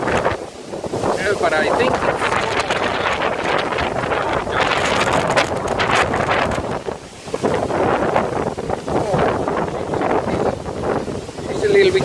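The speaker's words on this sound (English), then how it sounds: "it's a southern wind or something like that because it's warm." A strong, warm southern wind blows hard in stormy weather, roaring steadily and buffeting the microphone almost without pause, loud and close, while a person speaks briefly underneath.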